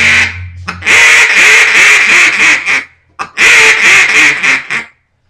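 A single reed duck call blown loudly and crisply in two bursts of rapid quacking notes, each lasting about two seconds, with a short pause between them.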